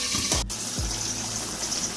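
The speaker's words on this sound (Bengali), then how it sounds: "মটন একদম টকবক করে ফুটছে।" A pot of mutton curry boils hard on a home stove, with a few distinct wet bloops and gurgles over a steady watery bubbling.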